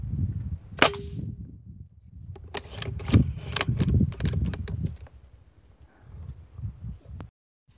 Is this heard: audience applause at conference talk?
no